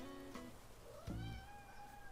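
A cat meows once, a short tonal cry heard over steady background game music and ambient noise.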